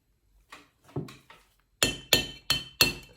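Steel chisels strike Portland stone while a hare shape is carved from the outside in: a few light taps, then four loud, sharp, ringing blows at an even, close rhythm.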